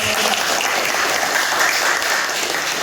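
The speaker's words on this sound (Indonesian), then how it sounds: "Tepuk tangan untuk" Steady, dense applause from a class of students in a history lesson, continuous and fairly loud for the whole stretch with no talk over it.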